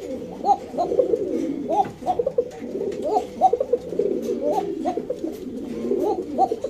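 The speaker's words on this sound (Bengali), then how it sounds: "কবুতরের ডাকটা দেখা দিচ্ছি" A Lahori pigeon on a fancy pigeon farm coos close by in a repeated rhythmic series of soft, throaty calls over a low murmur of background noise.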